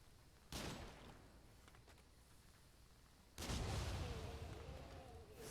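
Rifle and cannon fire in the video game Nioh 2, two heavy booming blasts a few seconds apart, each with a long rumbling tail over steady background noise.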